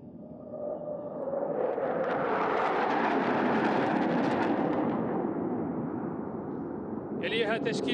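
A pair of F-15C interceptor jets roars past at an air display, the broad engine rumble swelling to a peak midway and then trailing off, with a faint tonal whine toward the end.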